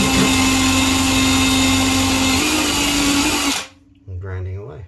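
Craftsman rotary tool grinding a bathtub surface, a loud high-pitched whine running steadily for over three seconds before cutting off abruptly, followed by someone speaking.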